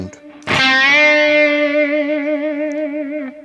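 A single sustained electric guitar note, distorted, with a wide, wavering vibrato that swells and bends in pitch before fading out.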